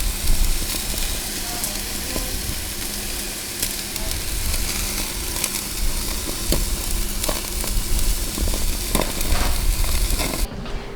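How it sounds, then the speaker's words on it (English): Corn on the cob and asparagus sizzling as they cook off-grid, a close, continuous crackling hiss with scattered pops that stays steady throughout. "We're gonna let them do their thing, get a nice little sizzle going"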